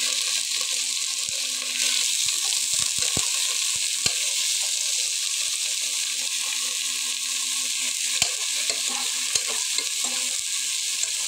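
Steady, bright sizzling of vegetables frying in oil in a pan for khichuri, with scattered light clicks and scrapes of stirring, close and continuous without talk.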